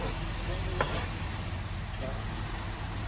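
Garlic and peppers sizzle steadily in a hot pan with scraping stir strokes over the frying hiss, close and continuous.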